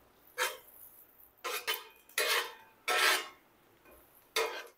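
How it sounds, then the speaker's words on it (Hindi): A spoon scrapes chopped onions around a pan as they turn light brown: about six distinct rasping strokes, close and fairly quiet, separated by near silence with no strong sizzle. "इस तरह से चम्मच चलाते रहेंगे ताकि सारा प्याज का जो कलर है वो एक ही तरह का हो"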